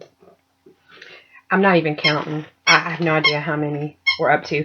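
A dog's squeaky toy squeaks in short high bursts in the background, mostly at the start, before and between stretches of someone speaking close to the microphone.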